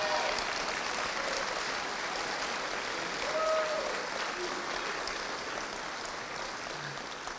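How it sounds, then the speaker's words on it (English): Audience applause at a debate, where a university president is being thanked, forms a steady, soft-to-moderate roar of clapping lasting several seconds with a few faint voices mixed in, gradually thinning toward the end. "Let's give President Henry a round of applause."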